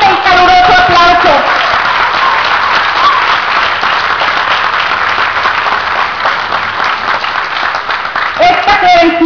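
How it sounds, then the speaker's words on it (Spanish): Strong, warm applause from an audience at a DIF Acatlán disability credential event, sustained loud clapping lasting several seconds, with amplified voices at the start and end. "para la que pido un fuerte y caluroso aplauso"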